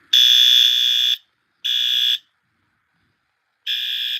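A loud, harsh battery-powered fire alarm blares in three bursts, a long one, a short one, and after a pause another, with silence between them.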